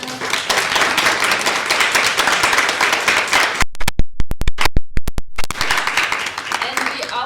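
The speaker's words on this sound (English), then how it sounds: "let's give him a round of applause." Audience applause at a film director Q&A, a steady dense wash of many hands clapping that fills the room and keeps going for several seconds without a break.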